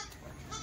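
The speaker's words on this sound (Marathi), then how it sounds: "मित्रांनो बघताय शेळीचं दूध व्यवस्थित काढता आलं पाहिजे." A Kathiawadi goat gives a brief, faint bleat while being milked, close by and with no talk.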